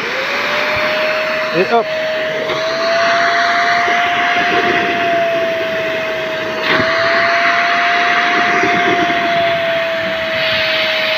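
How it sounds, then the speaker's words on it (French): A Silvercrest fabric cleaner runs with a loud, steady motor whine and airy suction roar as it draws up clean water from a tub, with a brief gurgling slurp and a short spoken word over it. "on allume, on prend un bac avec de l'eau propre"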